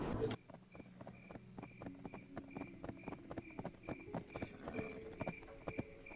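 A donkey ridden in the Black Desert video game clip-clops along in a steady, even rhythm of hoof strikes, quiet and continuous across the whole stretch.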